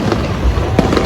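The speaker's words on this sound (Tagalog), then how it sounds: "May fireworks pang pahabol." Fireworks bursting at a late-night fiesta, a dense run of loud cracks and booms with a sharper blast near the end, close and continuous.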